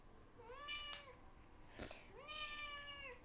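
A kitten meows twice, a rising then falling cry each time, with a brief rustle between them. The calls sound faint and somewhat distant in a quiet kitchen during cookie baking.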